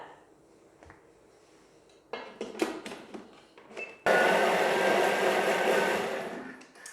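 A Thermomix blender whirs into action on banana and egg, starting with short stuttering pulses and then settling into a steady, loud continuous whirr for the last few seconds.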